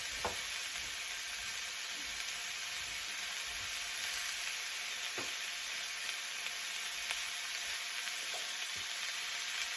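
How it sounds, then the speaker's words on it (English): Vegetables cook in a frying pan for bokeumbap, a faint, even sizzle running throughout with a few soft clicks of stirring and no talking. "I'm going to cook this now until those vegetables are almost completely done."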